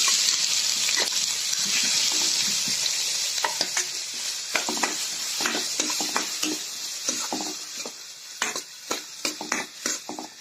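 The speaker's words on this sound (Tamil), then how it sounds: "வெங்காயத்தை நல்லா வதக்கிக்கலாம்" Onions sizzle and crackle steadily in a hot pan, with intermittent stirring clinks and scrapes growing more frequent toward the end.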